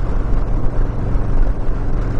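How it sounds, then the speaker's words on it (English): A Harley-Davidson M8 motorcycle engine rumbles steadily and loud while riding, a deep continuous drone mixed with buffeting wind noise. "I just love how the engine just kind of loafs along, and you have all that torque and all that power"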